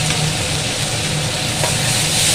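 Onion, capsicum and a ginger, garlic and chilli masala paste frying in a pan, a steady loud sizzle throughout with no talking.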